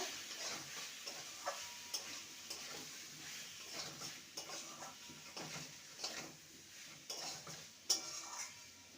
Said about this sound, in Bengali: মশলার সাথে আলু আর কাঁকরোলকে ভালো করে কষিয়ে নিয়েছি